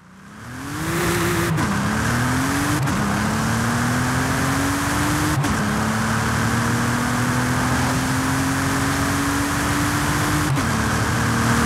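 A video game car engine in Forza Horizon 5 revs and climbs steadily through several gear shifts, each marked by a brief dip before the pitch rises again, loud and continuous.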